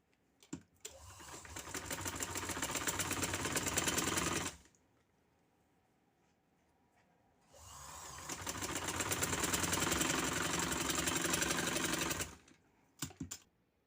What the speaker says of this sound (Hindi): या किनारे, बिल्कुल किनारे पे सिलाई में लगा रही हूँ।